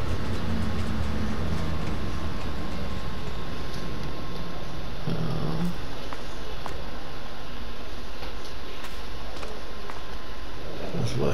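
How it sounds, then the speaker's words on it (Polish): A train hauled by a locomotive approaches through a wintry rural area near woods, a loud continuous rumble building with rolling rail noise and occasional clanks. "przychodzi pociąg chyba. Tu już jedzie, zbliża się."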